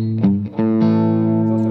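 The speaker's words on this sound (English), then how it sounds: "here again, without and with the boost. And it makes my guitar sound bigger and more expensive" Electric guitar run through a boost pedal, a loud sustained distorted chord after a couple of short plucked attacks, ringing out richly and clearly on its own.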